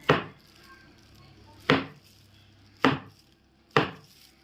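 A cake tin filled with batter is tapped down on a surface four times, each knock a sharp close thud that fades quickly, spaced about a second apart with quiet between, no speech.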